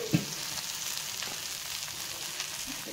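Taro frying in oil with garlic, a soft steady sizzle with a brief knock near the start and light stirring noises, fairly quiet and without speech.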